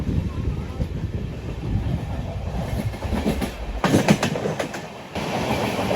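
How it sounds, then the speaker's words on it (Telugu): A general coach on the Seshadri Express, bound from Kakinada to Bengaluru, rolls with steady rumbling and rhythmic clickety-clack of wheels on rail joints, swelling into a louder, clattering burst midway before settling back. "మీలో ఎంతమందికి ఈ సౌండ్ అంటే ఇష্టం చెప్పండి, ఈ చంకింగ్ సౌండ్."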